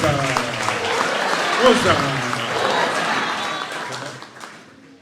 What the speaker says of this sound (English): Another round of applause to the chairman.